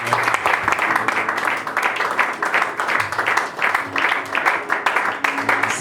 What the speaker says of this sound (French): Acclamons Jésus-Christ.